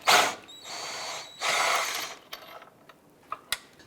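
18mm wrench ratcheting on the nut of a front lower control arm bolt on a 2011-2018 Volkswagen Jetta, two bursts of close metallic clicking followed by a few sharp taps.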